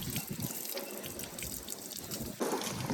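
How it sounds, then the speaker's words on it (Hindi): Water from a hose pipe splashes steadily while a dog is bathed outdoors, a continuous nearby gush with no talk over it. "पाइप से पानी डालो क्या?"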